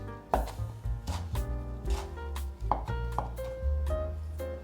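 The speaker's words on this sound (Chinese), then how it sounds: "把9层塔切碎" A knife chops Thai basil leaves on a board, giving about a dozen close, uneven knocks with short ringing tails, and no voices are heard.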